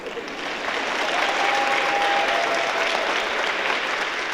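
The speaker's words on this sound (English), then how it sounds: "If y'all would keep the applause going," An audience applauds at a high school spring band concert during an award presentation. The clapping swells quickly in the first second and stays full and steady after that.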